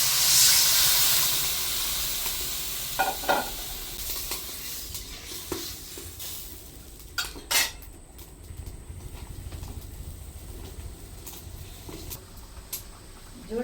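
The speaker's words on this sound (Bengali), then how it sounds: "ঝোলটা খুব সুন্দর করে জাল হয়ে গেছে" A pan of river chapila fish curry gravy bubbles and hisses on the stove with a soft, steady sizzle. A few faint clinks and taps break through now and then.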